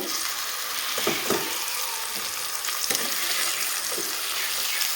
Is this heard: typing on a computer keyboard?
no